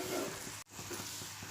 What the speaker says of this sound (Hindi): इसे अच्छी तरह से मिक्स करूँगी, कोलिम, भाजी, प्याज वगैरह।